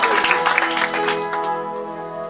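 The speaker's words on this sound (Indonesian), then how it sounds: "Tepuk tangan bagi Allah kita." A church congregation claps during worship, with a burst of hand clapping at the start that fades over sustained music and singing.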